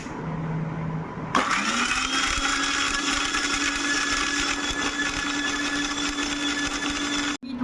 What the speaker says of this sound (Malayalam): ഞാനിവിടെ മിക്സിയിലിട്ട് അടിക്കാൻ പോവേണ്ട.